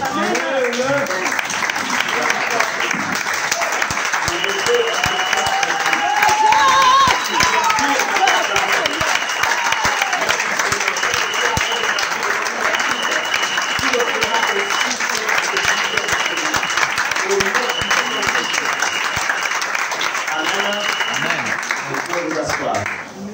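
A church congregation applauds to acclaim Jesus, sustained dense clapping throughout with voices and cheering mixed in, loud and close, slightly tapering at the end.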